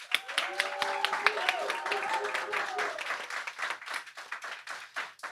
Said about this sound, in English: One more round of applause for our panelists, please.